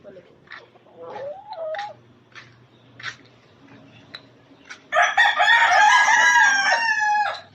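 A rooster crows loudly near the end, preceded by scattered clucks and chicken calls on a farm, with a person speaking briefly in between.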